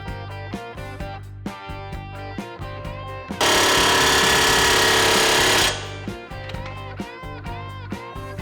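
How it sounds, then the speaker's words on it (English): A ratchet tightens the bolt on a John Deere mower blade, giving a near, loud series of sharp clicks, interrupted by a few seconds of dense, continuous mechanical rattling. "I'm gonna ratchet this down"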